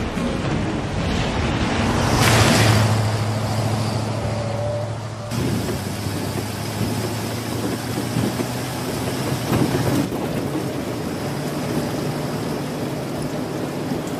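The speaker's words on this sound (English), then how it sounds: "They don't have rain like this in Boston." Heavy rain pours down on a small island in a steady, loud, dense roar that runs unbroken throughout, with a low rumble underneath and no voices.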